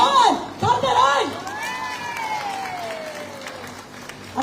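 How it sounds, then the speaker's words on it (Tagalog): Clapping and cheering from a crowd of senior citizens at a community orientation event, fairly loud at first and then settling, mixed with shouts and a long, rising and falling whoop. "Isang malakas na palakpak sa best friend ng mga senior citizen, Consial John Calderon!"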